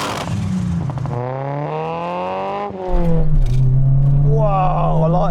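Race cars drive up and down a runway to warm their engines, rising and falling engine tones running throughout with a louder surge midway, while people talk over the noise.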